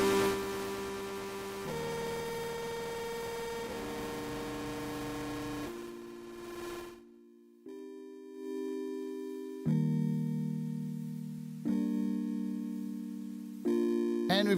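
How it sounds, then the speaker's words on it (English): Heavy distortion effect from the Nostalgia FX audio app on iOS, with thick buzzing harmonic tones that step through a series of sustained notes, loud and saturated, broken by a brief near-silent gap midway. "if you really push this, you can get some pretty crazy distortion out of this"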